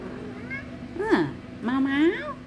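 A grey mother cat gives two drawn-out meows, close by, with a soft background voice and faint household noise.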